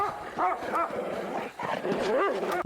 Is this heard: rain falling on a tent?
no